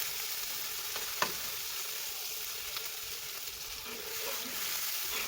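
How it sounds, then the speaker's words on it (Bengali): Spice paste frying in a pan for a thin rohu fish and radish curry, a soft, steady close sizzle with a single brief click, no voices. "এখন আমি পরিমাণ মতো একটু পানি দিয়ে নিব মশলাটা কষানোর জন্য"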